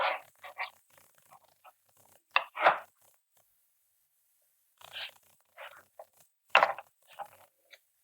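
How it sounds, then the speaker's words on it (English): A serrated knife saws through rolled beignet dough, cutting it into squares in short, close rasping strokes separated by silent pauses. "now we're going to cut it into squares. I'm using a serrated"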